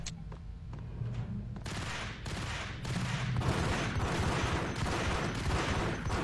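Enemy gunfire in the Max Payne shooter game, including Ingram submachine gun fire, comes as sustained rapid bursts of shots that grow louder and denser partway through, with no talk.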